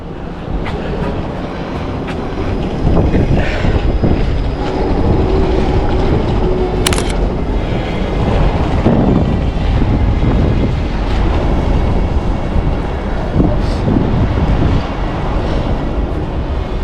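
A Toronto streetcar rumbles past nearby in the city, a loud sustained rolling rail noise with wind buffeting the microphone and a brief high squeal partway through.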